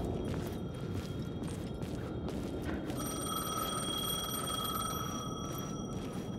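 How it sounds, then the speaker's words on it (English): A payphone rings inside the video game Alan Wake II, a steady electronic trill that repeats through the whole stretch over a loud, dense rumbling ambience, with no talking. "The payphone was ringing."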